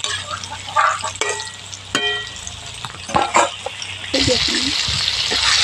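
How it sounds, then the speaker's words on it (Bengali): Batter-coated chicken pieces fry in hot oil for a KFC-style crispy fried chicken, giving a close, steady sizzle and bubbling with occasional clinks, while a voice talks over part of it. "এগুলোকেও ভালোভাবে ভেজে নেবো"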